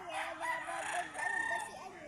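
A rooster crows nearby at a cockfighting arena in Taytay, Rizal, a long drawn-out call, with other chicken sounds and faint voices in the background.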